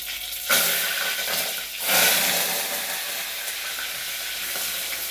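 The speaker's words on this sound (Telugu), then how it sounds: "వేడెక్కింది జీలకర్ర" Cumin seeds heat in a pan with a steady bright sizzle that swells into two louder hissing bursts before settling back into an even frying crackle.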